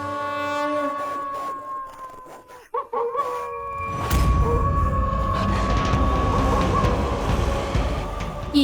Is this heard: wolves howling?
yes